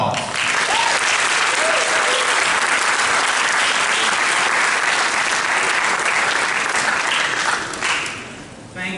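A Hall of Fame ceremony audience breaks into sustained, loud applause that fills the space evenly before tapering off right at the end.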